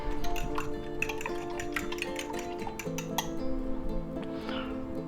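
Spinach leaves being mixed in a bowl, with light clinking and tapping of a utensil against the dish in quick irregular strokes over a steady tonal background hum.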